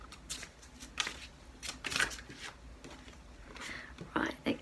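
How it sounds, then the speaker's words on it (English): Deck of oracle cards with animal imagery being shuffled by hand: quiet, brisk riffling and flicking in irregular bursts, close up, while a voice speaks softly over it. "Just doing a bit of a shuffle and seeing which cards we will be"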